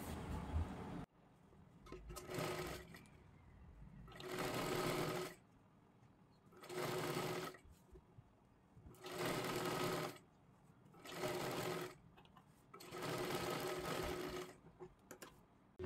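A sewing machine stitching the neckline of a pan-neck blouse runs in six bursts of steady whirring, each a second or two long, separated by short pauses, close but fairly quiet, with no talking.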